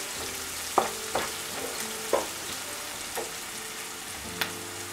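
Onions frying in a generous amount of oil for a Kathiyawadi eggplant curry, a steady soft sizzle broken by several sharp clinks of a spoon against the pan.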